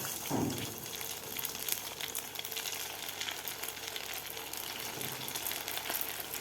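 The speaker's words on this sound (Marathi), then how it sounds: "तेलसुद्धा आपलं व्यवस्थित गरम झालेलं आहे तर यामध्ये आता हे ब्रेड रोल्स घालायचे आहेत आपल्याला" Bread rolls frying in hot oil, a steady dense sizzle and bubbling that holds at an even level throughout, with a brief splash near the start.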